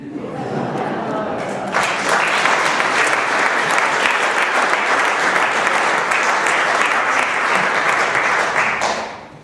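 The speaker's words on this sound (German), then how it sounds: "Applaus ist ja etwas Schönes, besonders beim Vollbesetzten." A full audience at a rhyming recital in Rhöner Platt dialect bursts into loud, sustained applause that continues steadily for several seconds before fading out.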